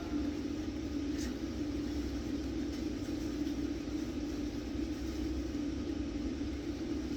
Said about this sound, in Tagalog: Malakas ang ulan ngayon mga kasama.